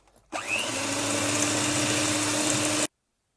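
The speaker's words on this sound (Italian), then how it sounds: "Sempre con le nostre fruste andiamo ad amalgamare il tutto" Electric hand mixer whisks blending graham cracker dough with vanilla extract and water, a steady, loud motor whir that starts abruptly, holds constant for about two and a half seconds, then cuts off.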